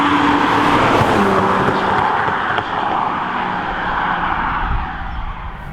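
A Nissan 350Z sports car engine roars in a steady, loud, broadband drone with a slight dip midway, sounding close and continuous for about six seconds with no talking.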